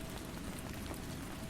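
Rain falls in a steady, even hiss, like drops pattering on windows and surfaces, continuous and moderately loud with no voices.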